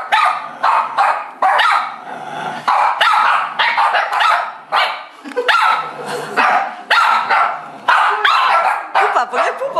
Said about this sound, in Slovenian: Pupa, poglej pupa, kako laja,